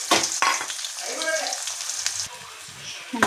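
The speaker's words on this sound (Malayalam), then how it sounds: "കടുക് പൊട്ടിയിട്ട് നമുക്ക് കൊച്ചുള്ളി ഇട്ട് കൊടുക്കാം." Shallots drop into hot oil with popped mustard seeds for a buttermilk curry tempering, giving a loud, bright sizzle that flares at the start and settles into an even hiss.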